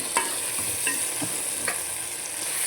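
Green egg curry gets stirred in a pan with a steady bubbling sizzle, broken by a few light scrapes and taps of the spoon, and no voices.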